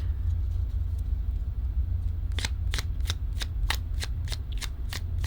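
Tarot cards are riffled and shuffled with a quick run of crisp flutters over about three seconds, heard close over a low background rumble.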